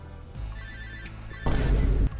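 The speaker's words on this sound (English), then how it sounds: "I guess that confirms that you can't escape the phone call from Sophie" A phone rings in the horror video game Cry of Fear, a steady electronic ringtone under game ambience, followed by a loud burst of noise that cuts off abruptly.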